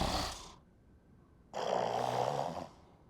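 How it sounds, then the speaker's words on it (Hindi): A woman snores in two loud, rough breaths separated by a quiet pause, heard close in a residential building at night, with no talking. "ये तो खर्राटे लेने लगी"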